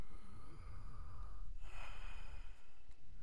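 A coughing patient breathes in deeply and audibly during a doctor's chest examination, with one long, close breath rising about halfway through over a steady background hiss and no talking.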